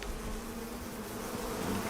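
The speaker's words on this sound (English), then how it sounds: "Come here, bees." Bees buzz steadily in the open-world survival game Icarus, a continuous close insect drone lasting a couple of seconds with no speech.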